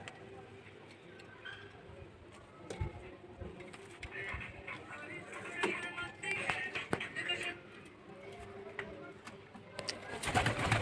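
Andhra pigeons coo repeatedly at a pigeon loft, soft throaty calls rising and falling with faint human voices and scattered ticks in the background.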